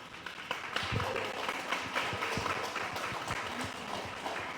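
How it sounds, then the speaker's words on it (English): An audience at a summit in Saipan applauds for elders, with moderately loud, steady clapping from a crowd and scattered individual claps standing out, fairly close. "Can we have a round of applause for our elders?"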